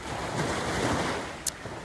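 Steady rushing roar of ocean surf with wind buffeting the microphone, continuous and fairly loud, with a brief sharp click near the end.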